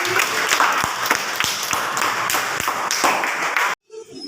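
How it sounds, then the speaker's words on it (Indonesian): Students in a classroom clap for a classmate, a close, lively burst of many hands with a few sharper individual claps standing out, ending in an abrupt cut to near silence. "Tepuk tangan untuk Rizky."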